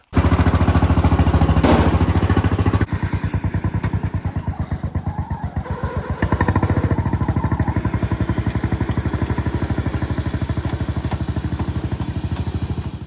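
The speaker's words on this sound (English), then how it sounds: "let's get the off-road lawnmower and pull it up to the garage" A small riding lawn mower engine starts with a clatter, then settles into a steady, rapid chugging idle, loud and close, continuing without voices.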